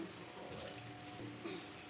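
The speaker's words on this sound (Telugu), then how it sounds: "ఇప్పుడు ఇందులో కొద్దిగా నీళ్ళు వేస్తున్నానండి" A small amount of water poured into an old-style country fish curry, a faint, soft trickle and splash at close range lasting under two seconds, with no talking.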